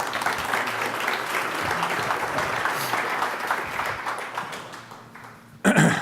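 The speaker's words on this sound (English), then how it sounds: "So round of applause for the panelists." A room full of people claps steadily in sustained applause that fades toward the end, followed by a brief louder burst.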